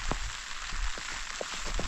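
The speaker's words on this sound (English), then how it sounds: "rain is coming down now" Rain falls on a mountain campsite, a steady hiss under the wind with scattered drops tapping nearby, close and moderately loud.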